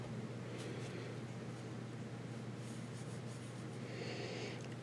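A fountain pen with a Japanese medium nib scratches across paper in faint, continuous strokes, close and quiet against a steady low background hum.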